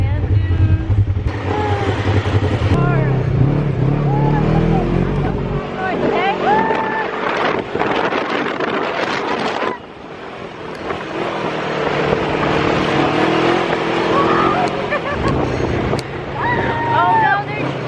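A vehicle roars across desert sand dunes near Dubai, engine droning loud and steady under buffeting wind, while people shout and talk excitedly over it throughout.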